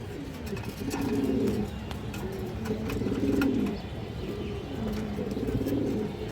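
A large silver-necked female pigeon among others, giving close, clear rolling coos in repeated swelling phrases, one after another, over a steady background hum.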